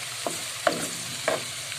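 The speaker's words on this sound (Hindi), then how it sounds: "बड़ा ही अच्छा ये फ्राई हो रहा है प्याज हमारा" Onions frying in a pan, an even sizzle broken by a few short spatula taps, close and alone.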